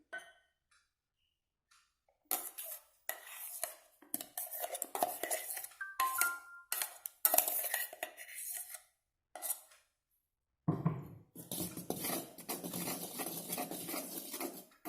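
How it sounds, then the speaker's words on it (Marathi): Jaggery cake batter stirred in a bowl, intermittent clinks and scrapes of a utensil against the bowl coming in uneven bursts, separated by short silences, close and fairly quiet. "आपल्याला हे एकाच साईडने हलवायचं आहे, साईड बदलायची नाही आहे"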